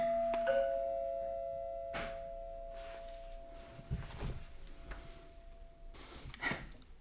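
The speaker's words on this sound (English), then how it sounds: "We just had a package delivered, which rang the doorbell and interrupted my filming" A home doorbell rings once for a package delivery, a single chime whose tone lingers for several seconds indoors before fading, followed by faint rustling and breathing sounds nearby.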